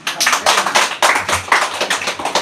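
Audience clapping at a Filipino church sermon, a steady run of crisp, closely spaced claps with no talk over it.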